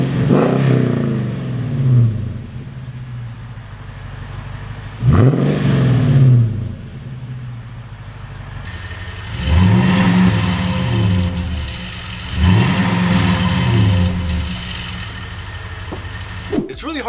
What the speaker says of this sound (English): Let's go ahead and rev the engine.